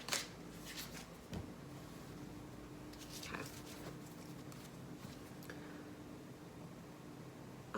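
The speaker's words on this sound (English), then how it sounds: "as I was shuffling the cards" Tarot cards shuffled by hand, a soft papery riffling and patter with a few sharper flicks, steady and close over several seconds with no talking.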